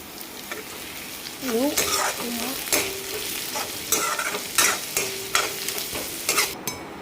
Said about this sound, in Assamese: আলুখিনি অলপমান ভাজি ল'লোঁ